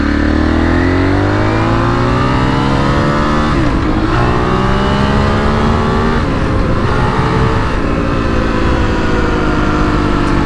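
An Aprilia RXV450 dirt bike engine revs hard and close up, its pitch sweeping up and down through repeated throttle blips for the whole stretch, loud and steady with no talking.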